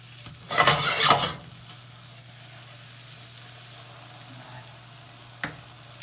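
Thick brioche slices caramelizing in a large frying pan, a burst of pan scraping and clatter, then a low steady sizzle with a faint hum and one sharp tap near the end.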